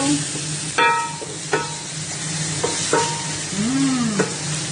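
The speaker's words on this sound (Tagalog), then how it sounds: "Ilagay na natin ang sibuyas. Halo lang tayo." Onions frying in a pan for spicy chicken Bicol express, with a steady sizzle and a few scraping stirs of a utensil against the pan, close up.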